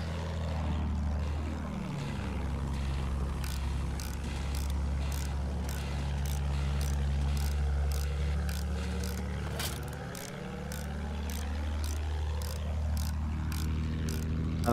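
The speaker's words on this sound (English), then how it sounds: "A bomber and a fighter, I think." Propeller bomber and fighter planes in a Battlefield 1 match: a steady, loud engine drone holds throughout, with rhythmic regular pulsing and pitch sweeps as the aircraft fly nearby, no talking.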